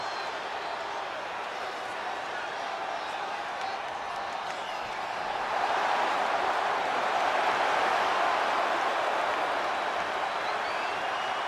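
Arena crowd cheering in the WWE 2K25 video game as The Rock and Cena face off at WrestleMania, a steady wash of crowd noise that swells louder midway and stays sustained.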